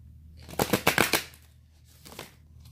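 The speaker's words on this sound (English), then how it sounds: "then I normally will just take my cards and shuffle them" A deck of playing cards being shuffled by hand, a quick burst of riffling strokes followed by a softer second pass, close and fairly quiet with no talking.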